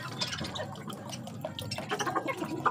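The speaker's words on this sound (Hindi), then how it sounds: "थोड़ा सा इधर पानी भर देता हूँ" Water splashes and drips as it is poured into a dish for pet doves, a busy wet trickle with small droplet sounds heard close up and alone.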